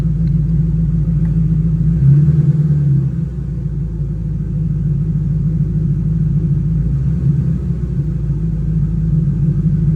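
A 2005-2010 Mustang GT 3V fitted with an ON3 turbo kit idles while warming up, a deep steady low rumble with a slight rise in revs early on, close and constant, no voices.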